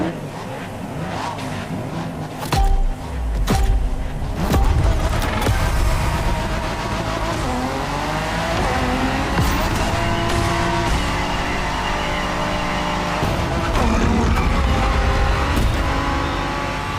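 Renault race car in The Crew Motorfest video game, its engine revving and climbing through gears with bursts of tire squeal and skidding, loud and continuous throughout.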